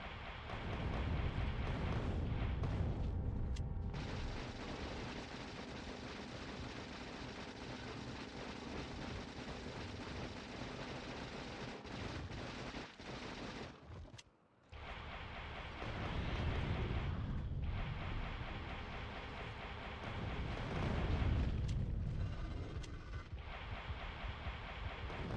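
Heavy rumbling rocket blasts and explosions in the Factorio: Space Age video game, loud and sustained with rolling booms and brief lulls, continuing over most of the stretch without talk.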